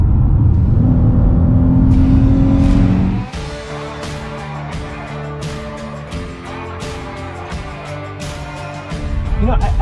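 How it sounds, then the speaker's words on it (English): A 2022 Chrysler 300 S driven in sport mode roars loudly for about three seconds, drops to a steady cabin drone, then swells again at the end. "there's a big difference between drive and sport. So I'm really liking sport."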